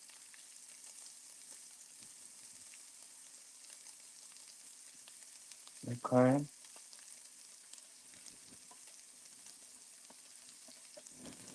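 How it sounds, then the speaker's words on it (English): Grits pour into a hot pot of cream and are stirred, making one short hissing, sizzling burst partway through an otherwise quiet stretch, with a brief spoken word nearby. "You can go ahead and add your grits in and just kind of stir as you add."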